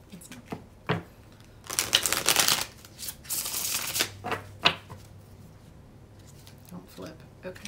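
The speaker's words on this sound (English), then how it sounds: "Shuffle, don't flip." Tarot cards are shuffled in soft bursts of riffling and tapping, fairly faint and close, with pauses between handfuls; no one speaks during the shuffling.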